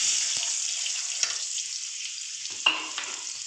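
Cloves, green cardamom and whole black peppercorns sizzle in hot oil for Bengali mutton kosha, a steady close frying hiss with a few stirring clinks and scrapes over it.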